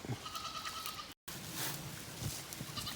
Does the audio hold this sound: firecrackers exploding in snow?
no